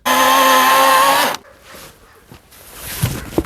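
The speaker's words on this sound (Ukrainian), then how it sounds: "Десь приблизно хвилинка-півтори уходить на ось такий зріз." An Einhell GP-LC 36/35 Li cordless chainsaw cuts through oak with a loud, steady, high-pitched whine for over a second, then stops abruptly, leaving quieter handling noises and clatter.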